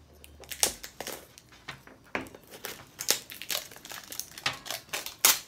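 The crinkly wrapper of a Poopsie slime surprise package is handled and torn open with quick, irregular crackles and rustles up close, with no voice over them.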